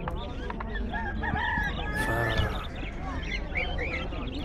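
Roosters crow at the Khamis Mushait bird market in southern Saudi Arabia, with loud calls rising over a busy mix of clucking birds while people talk nearby.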